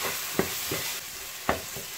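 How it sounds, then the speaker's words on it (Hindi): Spices and red chili powder frying in a pan for mash daal: a steady close sizzle broken by a few sharp scrapes and knocks from stirring, with no talking. "मसालों के साथ इसी तरह आप 2 मिनट तक और फ्राई कीजिए।"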